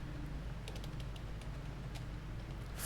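Typing on a computer keyboard while entering text into an MS Word table, with a handful of soft, fairly faint key clicks over steady background noise.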